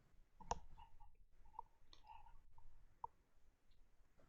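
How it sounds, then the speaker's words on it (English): Quiet, sparse clicking of keys being typed, a few distinct taps spaced irregularly over a faint background. "I hear some typing"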